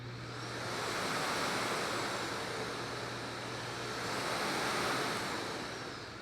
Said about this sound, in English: Now that the machine is plugged in, when we hit the power button, you'll see the green light appear.